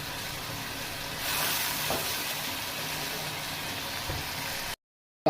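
Crushed chilli and masala fry in a pan, a steady broad sizzle and hiss that swells slightly partway through, then cuts to brief silence near the end.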